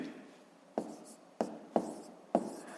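A pen writes on paper while working a fifth-grade math exercise, with soft scratchy strokes punctuated by four distinct taps as digits are set down, close and quiet with no talk.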